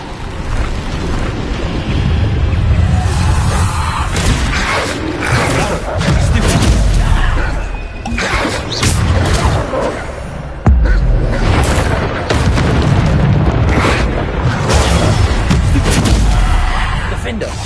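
Bombarda spell explosions in the video game Hogwarts Legacy, with loud repeated booms and blasts over dense, continuous spell-combat noise that barely lets up for the whole stretch.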